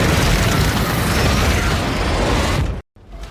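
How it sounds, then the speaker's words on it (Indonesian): A building explodes in a massive, roaring blast that fills the clip with sustained broadband rumble, then cuts abruptly to near silence before a fainter rumble resumes. "Dan tiba-tiba, bangunan itu pun meledak dan menyusut."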